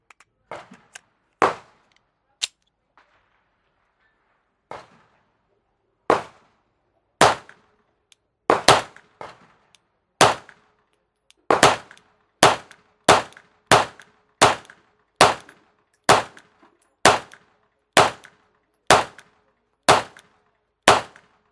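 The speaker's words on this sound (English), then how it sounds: "So last one, I'm gonna shoot one-handed for the hell of it." An SCT17 pistol is fired one-handed, about twenty sharp, loud shots, a few scattered early on, then a steady run of evenly spaced rounds, each with a brief echo, and no talking.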